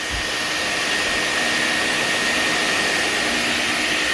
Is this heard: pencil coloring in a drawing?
no